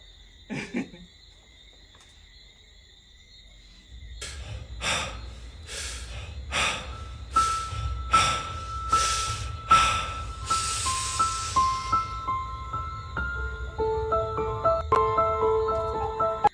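Heavy, ragged breaths, a few quick gasps and then a long run of loud rhythmic inhales and exhales, close up, with a faint high electronic whine behind.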